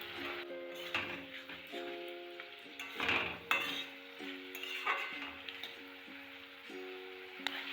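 Potato, onion and tomato with salt being sautéed in a pan, a steady sizzle under repeated scraping and clinking of a metal spoon stirring against the pan, close and fairly quiet.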